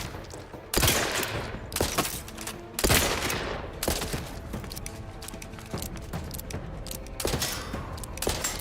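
Gunfire in The Outer Worlds 2 video game: loud, close shots crack out in irregular bursts, with two heavy blasts followed by rapid volleys and scattered single shots, and no talking.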